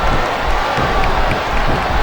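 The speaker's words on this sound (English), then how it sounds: "This capacity crowd is making their opinions known tonight." A capacity crowd in the WWE SmackDown vs Raw 2007 video game roars in a steady, dense wall of cheering, with faint swells and whoops rising through the continuous arena noise.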